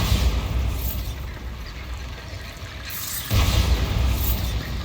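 A Bombarda blasting spell explodes in the Hogwarts Legacy video game. A loud, dense boom bursts in over rumbling background noise and carries on through to the end, with no speech.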